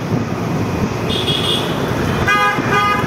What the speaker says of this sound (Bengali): অটো রিক্সায় আছি।